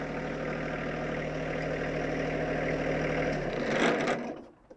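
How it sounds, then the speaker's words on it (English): A John Deere 1025R compact tractor engine idles with a steady low, even throb, close and loud, then winds down and cuts off in the final second as the engine is shut off. "what Michael's going to do is stop and turn the tractor off"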